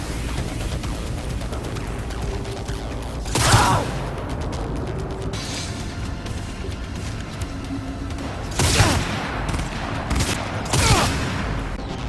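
Sustained gunfire in the Cyberpunk 2077 video game, a constant mechanical rattle of rapid shots punctuated by three loud bursts or blasts spread across the scene, with no voices.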